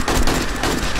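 A short, loud burst of rapid gunfire from 7 Days to Die, several close shots fired in quick succession during a fight against a zombie horde.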